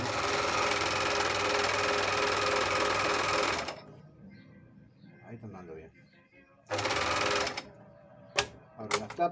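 A Panavox 482DF overlock sewing machine runs loud and steady for several seconds, stops for quiet handling noises, then runs again in a shorter burst, followed by a few sharp clicks.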